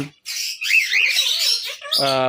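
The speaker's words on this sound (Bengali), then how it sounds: "এই হচ্ছে আমার কোকাটেল" A cockatiel in a cage lets out a loud, harsh, drawn-out squawk right up close, followed by a shorter buzzy call at the end.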